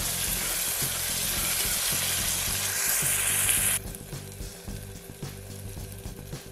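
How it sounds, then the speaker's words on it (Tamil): Tomatoes with a little salt sauté in a pan, giving off a steady close sizzle with occasional stirring scrapes, the frying hiss dropping noticeably partway through. "இப்போ தக்காளி நல்லா வதங்கட்டும்"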